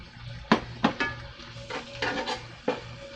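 Chicken pieces hit a hot pan, with clattering utensil scrapes and stirring knocks over a soft frying sizzle, several sharp pan contacts standing out at close range.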